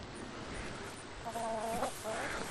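Chickens cluck and murmur close by while pecking at pumpkins, a few short clucks rising over quiet background noise.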